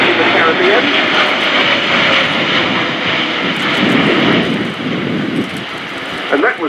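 Airbus A400M Atlas military transport aircraft at the RIAT 2018 airshow, its engines producing a loud, steady, broadband roar that holds for the whole stretch with only slight swells in level.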